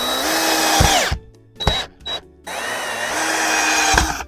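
A power drill boring into the underside of a chair seat, loud whining bursts that ramp up and cut off, with brief pauses and a short stutter before a long sustained run.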